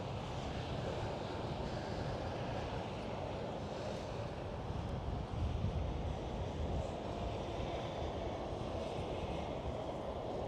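A Boeing 777 departs on runway 09 at Amsterdam Schiphol, a loud, steady broadband jet roar that holds for about ten seconds without easing, with no voices.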